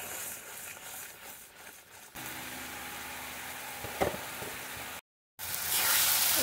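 Jackfruit kofta mixture, seasoned with turmeric, salt and Kashmiri chilli powder, frying in a pan with a steady low sizzle that shifts and grows brighter partway through, broken by a brief silent gap before the frying hiss returns louder.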